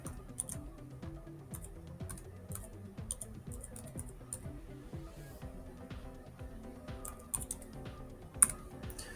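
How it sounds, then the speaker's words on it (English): Keys tapped on a computer keyboard while a password is entered, a steady run of quick, light clicks with brief pauses, fairly close and moderately quiet. "I will enter the password."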